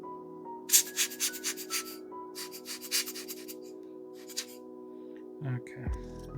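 Microfiber cloth rubbing and polishing the crystal of a vintage Seiko 7546-6040 watch, quick soft swishing strokes in bursts, close and faint over a steady low hum.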